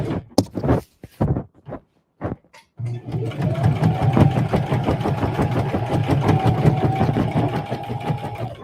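Sewing machine stitching in the ditch along a Christmas stocking: a few short bursts at first, then a steady rapid run of needle strokes with a faint whine, close and loud.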